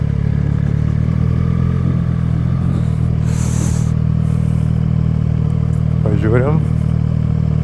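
A Triumph motorcycle riding through quiet streets, a steady loud engine drone with wind rumble throughout, a brief clatter midway and someone speaking briefly near the end.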